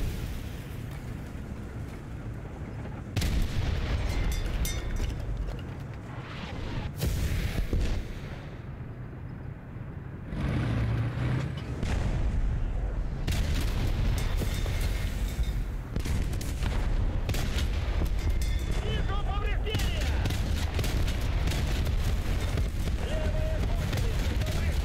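Tank cannon fire and explosions in War Thunder, with repeated heavy booms and bursts of gunfire layered over a constant loud battlefield rumble.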